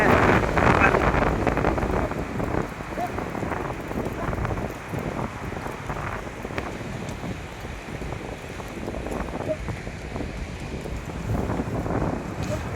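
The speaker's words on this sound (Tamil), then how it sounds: "நீரோடையோட அந்த சத்தம் பாருங்கள் சல சல சல சலன்னு" Continuous rushing of a stream in snowy Kazakhstan, a broad babbling wash mixed with low wind rumble against the microphone, fairly close and steady throughout.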